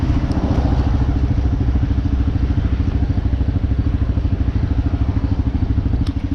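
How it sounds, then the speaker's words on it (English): The single-cylinder engine of a Kawasaki KLR 650 motorcycle thumps loudly and rapidly as it accelerates from about 45 to almost 70 mph, with steady throbbing pulses under wind rush. "This single cylinder thumper took me from about 45 to almost 70 miles an hour in a very short span"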